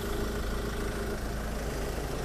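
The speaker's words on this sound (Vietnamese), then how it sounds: "Là tiếng máy đang nổ một cách lớn nhất cho anh chị nghe" Ford Everest Titanium diesel engine running with the hood open, a steady low rumbling drone heard up close with no talking.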